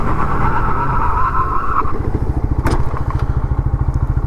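A TVS Apache RTR 160 2V motorcycle braking hard from about 100 km/h, its engine note dropping from a steady drone into a loud, pulsing lope as it slows, close and alone.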